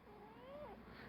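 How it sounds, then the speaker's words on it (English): A pet cat meows once, a drawn-out rising and falling cry close to the mic, with faint background noise underneath. "That's my cat."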